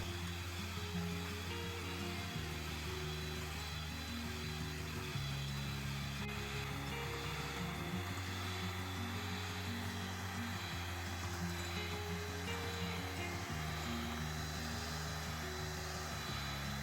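An electric hand mixer whips egg whites with sugar for a tiramisu chiffon cake, a steady close whirring motor drone whose pitch steps up and down at several points, with no talking.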